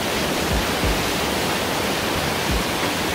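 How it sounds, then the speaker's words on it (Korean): A waterfall pours inside Hwanseon Cave in Samcheok, a loud, dense, unbroken roar of rushing water that fills the whole cavern space with no voices. "거의 폭포, 폭포. 이 물 한번 보세요."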